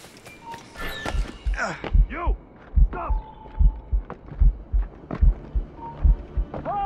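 Heavy, throbbing heartbeat effect from the video game Assassin's Creed Rogue as the character is poisoned, slow thumping beats in a steady rhythm under a man's strained speech and game sounds.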